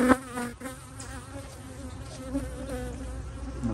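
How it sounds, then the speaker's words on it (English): A honey bee buzzes close by at an open hive during an inspection, a continuous droning whine that wavers in pitch and loudness for a few seconds with no talk. "I'm sure you can hear that bee on your video."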